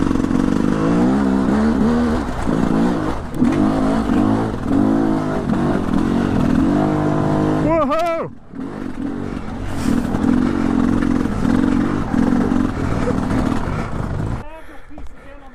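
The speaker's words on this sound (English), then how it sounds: "Ride your bike out there and balance it." A motorbike is ridden and balanced over an obstacle on a gnarly trail, its engine loud and close, revving and labouring with clattering and scraping, a sharp rev near the middle and voices talking over it.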